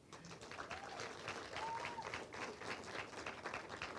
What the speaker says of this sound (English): To the teachers and the facilitators, equally a round of applause for you.